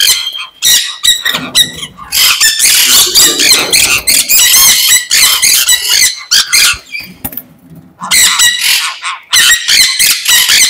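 Farm birds squawk and squeak loudly at close range while being caught, in frantic overlapping bursts broken by short pauses.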